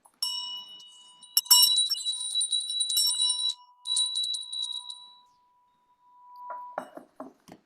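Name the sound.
bell ringing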